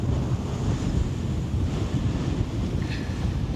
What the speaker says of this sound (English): Certainly blustery up here